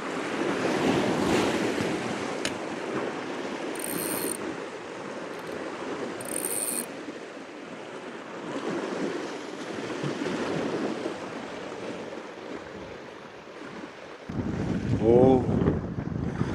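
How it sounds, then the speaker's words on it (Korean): Strong wind buffets the microphone as waves wash and surge around a small boat during night rockfish fishing, a loud continuous roar with brief higher rattles and a short voice near the end. "진짜 바람 심하네"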